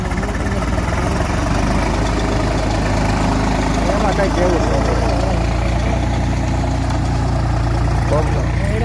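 A tractor engine idles loudly and close, a steady low chugging rumble that never stops, while people talk over it.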